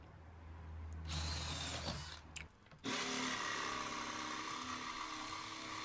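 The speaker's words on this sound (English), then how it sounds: "I'm just drilling some holes in here because I'm going to be jigsawing some pieces of wood out" A power drill bores holes in wood for later jigsaw cuts, whining in bursts with a brief pause and then a sustained high drilling run, close and fairly loud.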